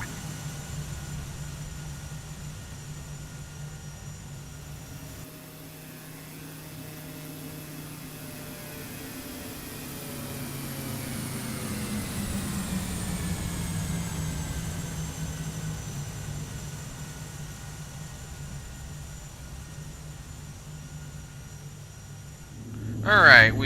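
Engine drone of a Mooney airplane throttled back during descent toward Huntsville, a steady low hum with a slowly shifting tone inside the cockpit, ending in a brief louder rustle.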